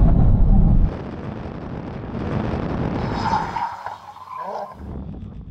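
A BMW M3 and a Ford Mustang braking hard from about 100 mph at the end of a drag race, a roaring rush of wind and tyre noise that drops abruptly, then a fainter rumbling glide as the cars slow.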